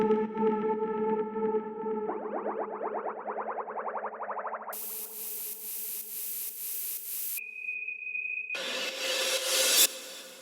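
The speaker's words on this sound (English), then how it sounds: "weird atmospheric sound effects that you add within the track" Eerie synthesized effects shift one after another: droning tones, a rapid warbling flutter, harsh bursts of noise, a thin sustained whistle, then a roaring wash.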